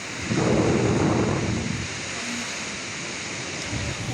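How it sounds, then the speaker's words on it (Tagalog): Loud roaring typhoon wind with heavy rain rushing during landfall in Angadanan, Isabela, Philippines, swelling early then settling into a constant storm noise; no voices. "Pinasaya naman ng hangin ang mga puno sa bayan ng Angadanan sa paglandfall ng bagyo."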